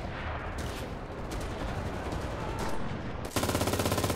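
Sustained machine gun fire on a D-Day battlefield in the World War II shooter Enlisted, a dense loud barrage of overlapping shots that ends in a fast, evenly pulsing automatic burst.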